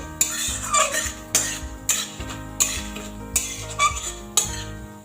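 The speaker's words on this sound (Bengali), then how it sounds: "এই শুকনো লঙ্কা ফোড়নের মধ্যে মুগ ডালটা দিয়ে দেবো মুগ ডালটা একটু ভালো করে ভেজে নেবো" A metal spoon stirs moong dal with dried chillies frying in a pan, clanking and scraping against the metal in regular strokes about once a second, with ringing tones between the knocks and only a faint sizzle.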